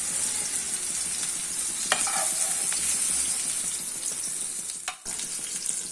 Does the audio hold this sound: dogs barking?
no